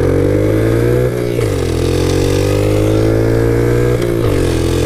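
A Honda Dax small motorcycle engine drones loudly and steadily, close up, its pitch dipping briefly twice as if shifting gears, with no talking.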